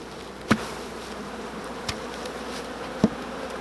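Steady low honey bee buzzing hums throughout at a hive, with a few sharp knocks or clicks standing out near and alone, no voices.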